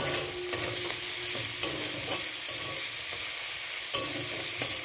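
Food frying in a pan sizzles steadily up close, with light scrapes and occasional taps of a spatula as it is stirred, and no talking.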